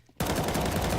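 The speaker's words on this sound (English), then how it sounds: "but Terry, close range on that Deagle" Rapid, dense gunfire erupts in Counter-Strike 2 from a Desert Eagle at close range, a loud burst of shots that starts abruptly after a quiet moment and continues without pause.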